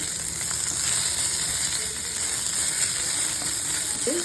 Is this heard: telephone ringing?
no